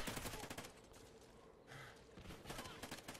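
Gunfire from the video game Call of Duty: Ghosts crackles in dense, rapid bursts, faint and low in level, with a brief pause partway through.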